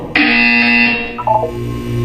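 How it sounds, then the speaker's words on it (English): A loud electronic buzzer in the video game Portal 2 sounds for about a second, followed by a shorter, softer tone and a low hum, with no talking. "You will hear a buzzer."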